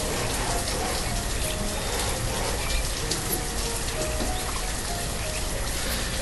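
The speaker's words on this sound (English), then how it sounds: "No, it's raining again." Rain falls steadily in the town-building game Banished, a dense unbroken hiss of drops at an even level throughout.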